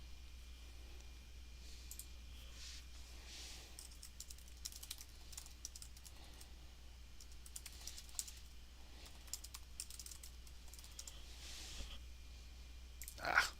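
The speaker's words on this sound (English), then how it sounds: "if you just see what I was typing right now" Rapid keystrokes on a computer keyboard come in irregular bursts over a steady low hum during a live forex trading session, fairly faint throughout, with a louder cluster of clicks right at the end.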